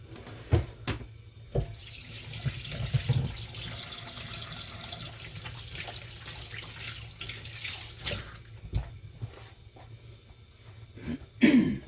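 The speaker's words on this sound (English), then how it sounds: "Wash my hands." Running tap water in a home kitchen while hands are washed, a steady close splash throughout, broken by a few coughs and throat-clearing sounds.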